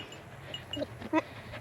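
Low, blubbering bleats from a buck goat courting a doe on a homestead, a few short, soft calls close by over quiet background noise.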